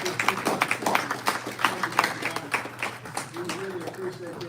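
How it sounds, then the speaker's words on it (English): Scattered audience applause at a talk show at Texas Southern University, a string of crisp, irregular claps fading toward the end as a voice begins. "let's give him a round of applause right now"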